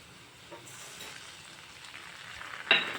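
Onion with ginger garlic paste fries in a pan, making a faint steady sizzle with light stirring and a brief sharper hiss near the end.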